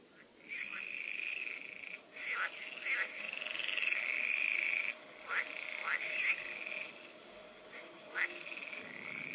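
A chorus of frogs croaking steadily, with sharper croaks bursting out every second or two over a constant shrill trilling background.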